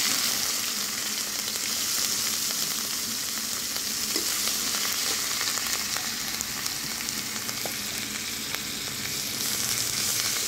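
Onion paste fries in a pan for fennel chicken, a loud, steady hiss and crackle of sizzling oil that continues evenly throughout with small pops and no talking.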